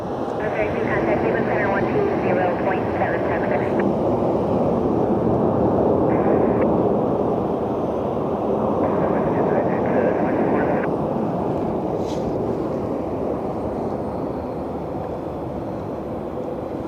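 A distant airliner jet roars steadily at Cleveland Hopkins airport (KCLE), a broad, sustained rumble that swells slightly and holds for the whole stretch, with someone talking over it.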